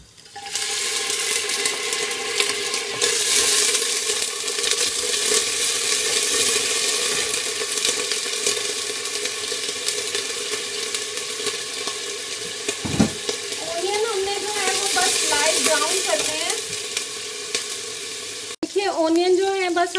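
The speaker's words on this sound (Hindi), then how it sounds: "ऑनियन जो है बस हमने सिर्फ लाइट ब्राउन करने हैं" Onions frying in about four to five tablespoons of oil for a spinach mixed-vegetable dish, a loud, steady sizzle throughout with a few brief stirring clatters near the end.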